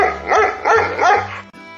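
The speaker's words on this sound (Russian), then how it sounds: "Ай, что это? Кажется, собака." A dog barks three times in a steady rhythm, loud and close, with each bark rising and falling in pitch, followed by a short softer yip.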